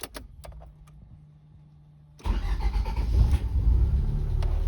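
A Nissan Bluebird engine cranks and catches after a few quiet clicks, then settles into a loud, close rumbling idle with a brief rev near the start of running.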